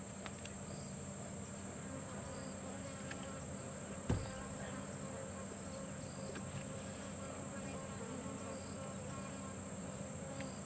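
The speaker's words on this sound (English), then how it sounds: "I hope you can hear the flies that are all buzzing around us." Flies buzzing steadily around a safari vehicle on an evening game drive in the bush, a continuous insect drone throughout with one brief knock partway through.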